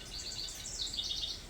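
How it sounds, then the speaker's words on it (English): A northern house wren sings outdoors on a hay farm, a quick run of high twittering, bubbling notes rising and falling, fairly faint against steady background noise. "is a northern house wren, according to the app that I now have"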